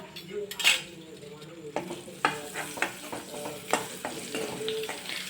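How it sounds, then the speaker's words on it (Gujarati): Curry leaves and hot green chillies sizzling in a pan, with a spoon scraping and clinking as they are stirred repeatedly. "હવે બધું આપણે સાંતળી લેશું"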